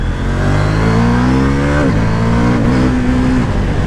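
A KTM 790 Duke accelerates hard up close, its engine note climbing steeply before a quick-shifter upshift drops the pitch, then pulling again in the next gear.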